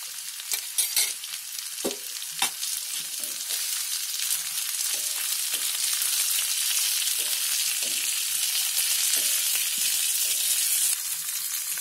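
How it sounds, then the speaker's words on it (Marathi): Vegetables for an egg curry frying in a pan, a dense continuous sizzle with scattered spoon scrapes and stirring knocks early on, close and steady, no talking. "आता याला पण थोडी फ्राय करून घेते।"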